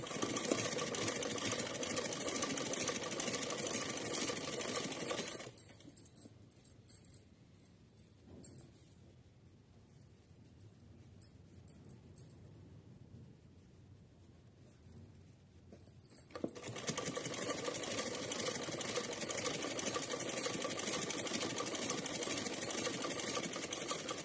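A sewing machine stitches fabric for a small Laddu Gopal dress, running in steady mechanical bursts: loud at the start, stopping for a quiet pause in the middle, then whirring again to the end.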